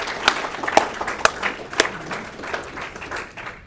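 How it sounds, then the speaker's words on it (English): A small audience at a video game developer group meeting applauds their new president, producing scattered, uneven claps with a few sharper strikes standing out, moderately loud and fairly close, fading toward the end. "if we want to throw a round of applause together for our president"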